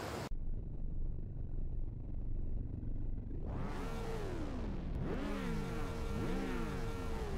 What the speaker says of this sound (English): it's time to fire up those engines